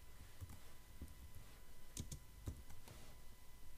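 Quiet computer keyboard typing as a page name and content are entered in a Confluence wiki, a few scattered soft keystrokes spaced irregularly over a faint steady background hum.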